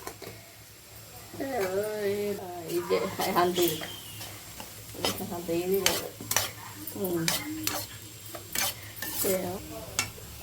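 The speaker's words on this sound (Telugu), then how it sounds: "కారం వేసుకొని కలుపుకోవాలి" A potato fry is stirred with chilli powder in a pan, giving a quiet sizzle and the scrape of a spoon under a voice that talks through most of it.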